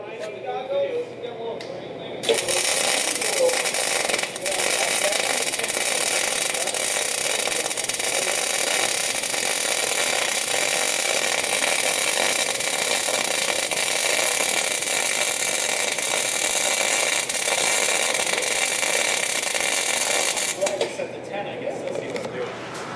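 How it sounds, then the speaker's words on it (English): A welder runs steadily during welding work, a constant loud crackling hiss that starts abruptly and holds unbroken for about eighteen seconds before cutting off, with faint voices around it. "We're welding."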